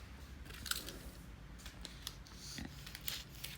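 Scissors snip through a sheet of cellophane, giving a few quiet, crisp cuts with light crinkling between them, close by and with no one speaking.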